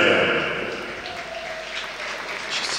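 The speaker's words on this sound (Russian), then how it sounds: "Дамы и господа, ваши аплодисменты." Applause greets a fighter's ring introduction, a dense, even patter of clapping from the arena audience that fades slightly, then swells again near the end, with a voice faintly underneath.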